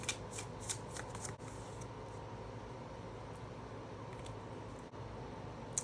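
Moonology oracle cards being shuffled by hand before one is drawn, a quick riffling patter of soft slaps and rustles in a quiet room, with no talking.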